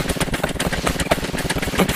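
Motors running on a vehicle build in the Scrap Mechanic video game, a close, loud, rapidly chugging engine drone with a steady pulsing rhythm throughout.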